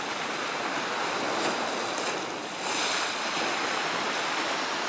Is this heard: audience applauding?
no